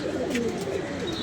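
Racing pigeons give soft, low coos close by, a continuous murmuring call with light background noise throughout the short stretch.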